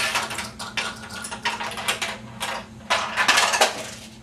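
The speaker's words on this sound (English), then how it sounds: "the ball shot up, ran across, hit a bumper here, bounced out, started to bounce by the nails" A pachinko ball fired up the lane clatters off a bumper and the pins, a rapid run of light metallic ticks and rattles in irregular bursts, close and crisp.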